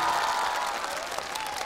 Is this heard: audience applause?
yes